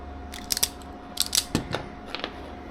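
Scissors trimming material for a model power sword's electrical assembly, a few quick crisp snips in small clusters, close up, with no talking.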